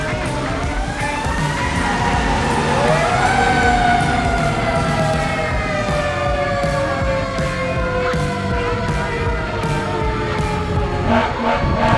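A fire engine siren wails loudly nearby as the engine and rescue truck head out of the station, its rising and falling tones sweeping over rumbling traffic, with a few horn blasts near the end.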